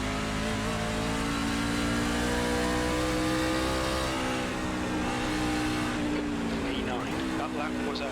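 A NASCAR race car engine in the iRacing simulator drones steadily at speed through the hills of a wine country circuit, its pitch wavering slightly as the car works through a corner.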